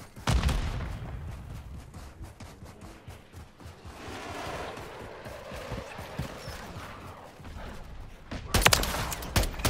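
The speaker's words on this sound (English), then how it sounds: "Emptied an entire clip to do that." Rapid bursts of automatic gunfire from a weapon emptying a full magazine in a multiplayer shooter, sharp close shots at the start and a heavy volley at the end, with quieter game noise and some speech between.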